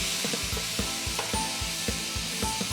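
Curry leaves and dried red chillies sizzle steadily in a hot pan of oil for a herbal rasam, with rhythmic scraping taps of a spoon stirring every half second or so, close and continuous.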